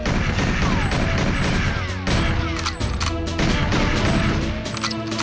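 Turret gunfire in the N64 game GoldenEye, a dense, continuous burst of rapid shots and crashing impacts packed with game effects, loud and unbroken throughout.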